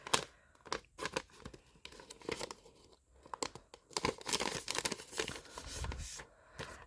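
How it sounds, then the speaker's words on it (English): Origami paper being folded and creased into a character figure, close crinkling and crisp rustling in uneven bursts, some sharper snaps of paper between quieter pauses. "turn it behind and you fold it down here onto the center where you make the crease"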